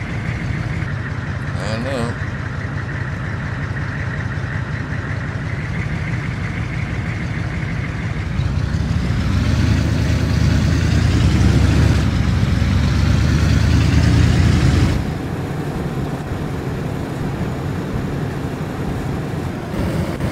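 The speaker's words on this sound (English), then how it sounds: "close the door. Start the engine." A car engine in the DayZ video game runs at a steady idle throughout, swelling louder for several seconds mid-clip as it revs before settling back to a low, continuous hum.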